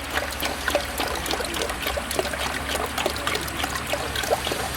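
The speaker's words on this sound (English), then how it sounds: "Now as I add the coolant, we should see something coming out of that bleeder hole." Coolant poured into the cooling system of a Holden VT 3.8 V6 engine that is overheating, a steady close trickle and splash of liquid running throughout with small irregular gurgles and no talk over it.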